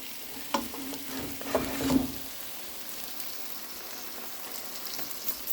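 Cooked rice being turned and stirred into biryani in a pan, a soft continuous scraping and rustle with a faint sizzle beneath, two or three brief louder knocks early on, steady and close with no talk.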